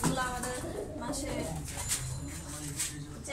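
Red Chilla pigeons coo softly at a breeding loft, low murmuring calls close by, mixed with rustling and people talking nearby.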